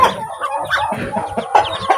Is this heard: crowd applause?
no